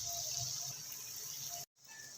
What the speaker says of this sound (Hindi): तो चलिए हम अब इसमें पानी डालते हैं।